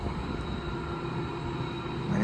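Far off and faint, a freight train with a distributed power unit in its consist rumbles past in a low, continuous roll. The sound swells slightly at the very end.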